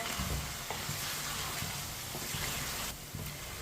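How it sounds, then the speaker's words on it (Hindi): Spices sizzling in a pan for kaddu chicken, with a steady dense frying hiss throughout and occasional light clinks of stirring, no talking. "अब मसालों को 1 मिनट के लिए पका लेंगे"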